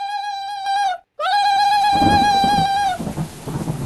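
Rain and thunder in a prison escape video game: a steady hiss of rainfall and low rumbling swell in under a sustained electronic tone that cuts out briefly and then returns.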